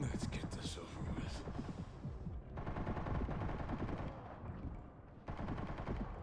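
SMG fire in Resident Evil Requiem rattles in rapid bursts, loud and close, broken by brief pauses, with a voice talking over it at times.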